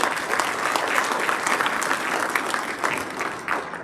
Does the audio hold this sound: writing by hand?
no